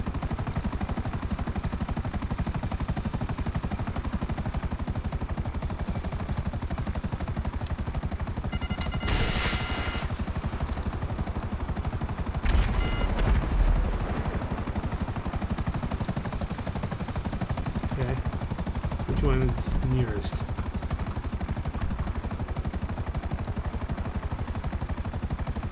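Buzzard attack helicopter flying in GTA 5 online, a steady rotor drone throughout, with bursts of machine-gun fire and gunshots cutting in around the middle and again near the end.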